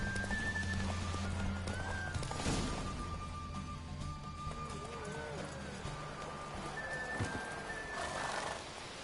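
Horses gallop during a race in The Witcher 3, with rapid hoofbeats, a loud neigh and whinnies over ambient game sound, plus faint voices.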